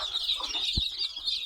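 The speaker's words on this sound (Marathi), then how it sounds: "आणि ही मित्रांनो आपली ही दुसरी कोंबडी." A brooding village hen with a clutch of chicks gives faint, soft clucks against a quiet farmyard background.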